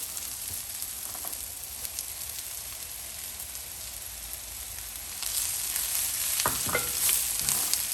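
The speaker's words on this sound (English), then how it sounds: "So I think I'm ready to add in my leeks." Leeks tossed into a pan of browned onions set off a steady frying sizzle, which swells louder near the end as the vegetables are stirred and scraped about.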